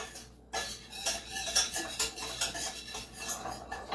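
Stirring white sauce pasta in a pan, with repeated metallic clinks and scrapes of a utensil against the cookware, fairly close and steady for several seconds with no talking.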